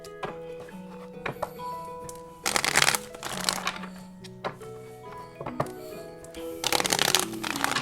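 Tarot cards shuffled in bursts of riffling and flicking, interspersed with soft taps and thunks as the deck is squared, close and fairly loud.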